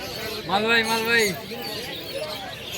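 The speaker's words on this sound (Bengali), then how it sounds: "এখানে কিছু পাট্টা এবং ধাড়ি পায়রা রয়েছে" Pigeons in cages at the Birnagar market, patta and older birds, give a clear rising-and-falling call up close over busy market chatter and background noise.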